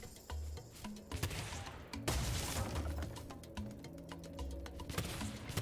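Rapid shooting bursts in the Spyro 3: Year of the Dragon Reignited video game, sharp repeated pops and clicks over game music, fairly close and steady with a louder burst midway.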